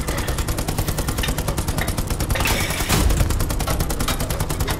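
Rapid bursts of gunfire and machine-gun fire in a WWII tank video game with an M4A2 Easy 8 76mm tank facing a German advance, dense repeated cracks throughout with a louder burst near the middle.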